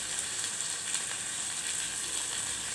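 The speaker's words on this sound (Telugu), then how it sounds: "ఇప్పుడు వీటిని కాస్త ఫ్రై కానివ్వాలి." Boiled cashews frying in a pan, a steady bright sizzle of hot oil crackling continuously and close up, with no voices over it.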